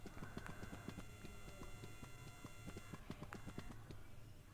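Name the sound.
horse hooves galloping in video game Free Fire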